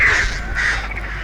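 Crows caw in Dead by Daylight, two loud harsh calls close together, followed by a fainter third, over a low steady rumble with no talking.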